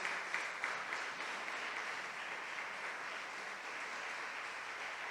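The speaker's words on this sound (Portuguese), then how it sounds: "Aplauda Jesus por isso." Church congregation applauding during a sermon, a dense, even patter of many hands clapping in a reverberant hall, fairly faint and sustained throughout.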